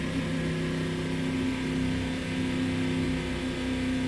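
A race car engine in Automobilista 2 running at a steady, loud drone with little change in pitch, heard alone without talk.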